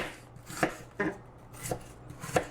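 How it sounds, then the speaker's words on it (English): Onions being chopped camping style with a knife for beef barley soup: four distinct, evenly spaced blade strikes against the board, crisp and close, with no talking. "I'm not chopping it properly, but I'm chopping it camping style."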